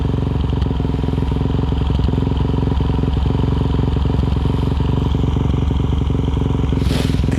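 A motorcycle engine idles roughly in cold weather, giving a loud, constant, close throbbing drone with small rattles and clatter over it, and a brief rustle near the end.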